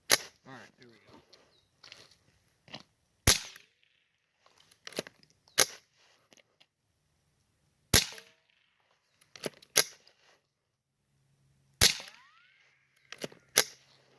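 Quiet .22 Long rounds fired from a rifle outdoors, a series of sharp short cracks spaced a second or two apart over faint background, with a few soft metallic clicks between shots.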